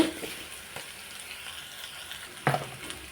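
Onions frying in a pan, a continuous sizzle with a few louder crackles and one sharp clatter near the end.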